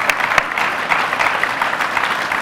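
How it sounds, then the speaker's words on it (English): Audience applause for panelists at a conference, loud sustained clapping with distinct individual claps near the start, no talking over it. "Big round of applause for our panelists, please"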